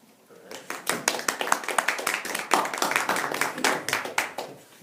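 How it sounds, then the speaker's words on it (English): Small audience at an energy law talk clapping, a patchy burst of individual hand claps that builds quickly, holds, then thins out, close and uneven, with no one speaking over it. "You guys didn't need to applaud me before I start."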